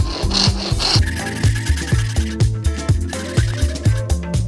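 A hand saw rasps through wood cutting tenon cheeks for a Shaker table, steady back-and-forth strokes in a regular rhythm, close and fairly loud, with no talking.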